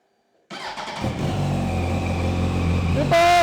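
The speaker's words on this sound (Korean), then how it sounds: "일단 순정 머플러의 배기 사운드는 조용하죠." A 2007 Yamaha YZF-R1 superbike with its stock muffler fires up after a short silence, then settles into a steady, fairly quiet idle rumble before a brief rev near the end.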